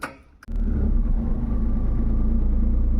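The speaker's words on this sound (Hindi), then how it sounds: "गाड़ी भी स्टार्ट हो गई।" A vehicle engine cranks and catches after a brief quiet moment, then settles into a steady, loud, close idle rumble with no talking.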